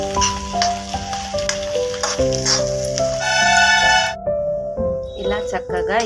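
Onions and curry leaves sizzle and fry steadily in a pan under a woman's speech, with background music tones running over the crackle.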